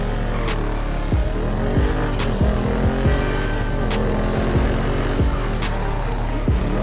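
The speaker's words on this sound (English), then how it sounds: "I feel like I did a very good job with the engine sound on this car" A 2025 Lamborghini Temerario engine in the video game GTA revs and roars continuously, with repeated gear shifts and throttle blips, loud and close, with no talking.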